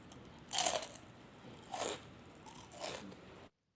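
Three crisp bites into deep-fried golden needle (enoki) mushrooms, each a sharp, loud crunch close to the ear, spaced about a second apart, with quiet between them.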